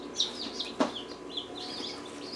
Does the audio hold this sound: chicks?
yes